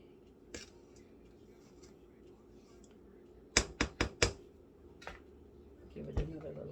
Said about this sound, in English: Give it another little whirl.